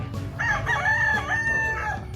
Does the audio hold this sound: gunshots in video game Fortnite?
no